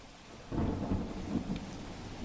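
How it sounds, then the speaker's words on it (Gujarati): Thunder rumbles low and heavy while rain falls steadily in a summer thunderstorm in Banaskantha district, with a louder roll partway through and no voices. "ભર ઉનાળે ભારે પવન સાથે"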